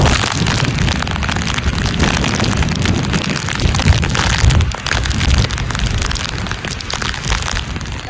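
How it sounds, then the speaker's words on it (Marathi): Heavy rain pours down in a dense, continuous roar, loud and close, with no pauses. "इतका जोरात पाऊस आलाय"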